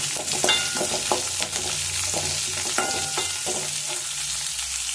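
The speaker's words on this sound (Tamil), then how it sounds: "கருவேப்பிலை, அடுத்தது பச்சை மிளகாய் நல்லா வதக்கிக்கலாம்." Curry leaves, green chillies and onion sautéing in a pan after mustard seeds pop, for okra poriyal: a steady close sizzle with repeated scraping stirs of a spatula against the pan.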